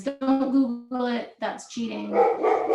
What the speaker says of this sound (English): Sorry, that was the dog.